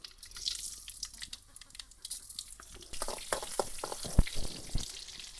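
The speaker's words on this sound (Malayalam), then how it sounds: "എണ്ണ ഒഴിച്ചു കൊടുത്തിട്ടുണ്ട് എന്താ കടുക് ഇട്ട് കൊടുക്കണം" Mustard seeds splutter in hot oil for a Malayalam-style curry, starting as a soft sizzle and breaking into sharp, close pops and crackles that grow louder and denser toward the end, with no voices.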